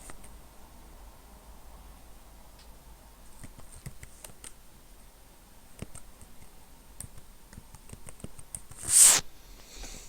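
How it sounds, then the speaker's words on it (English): Someone types into a search box on a computer keyboard. Faint, sparse keystroke clicks come in short runs over a quiet background, with one brief louder noise near the end. "I'm going to type in Abe."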